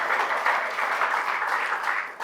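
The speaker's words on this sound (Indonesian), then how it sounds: "Mari kita beri tepuk tangan." A wedding crowd applauding steadily, a dense wash of clapping that carries on throughout.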